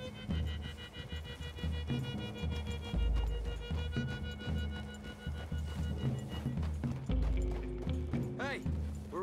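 Horses gallop in the video game Red Dead Redemption 2, a steady rhythmic clip-clop of hooves running throughout, with people talking over it.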